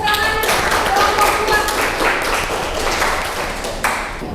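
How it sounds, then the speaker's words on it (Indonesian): A classroom group gives a dense burst of hand clapping for a group presentation at an Indonesian university, steady and close throughout with a few sharper claps standing out. "Tepuk tangan kelompok"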